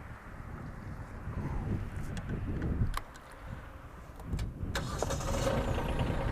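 A Kubota B2301 compact tractor fitted with a sickle bar mower cranks and starts outdoors, low engine rumble surging and dipping before settling into idle, with wind buffeting the microphone.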